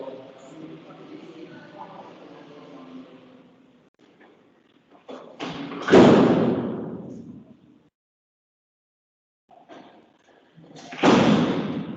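Two heavy door slams land about five seconds apart, each a loud close thud with a short decay, following a stretch of quiet indoor room murmur in a lecture setting.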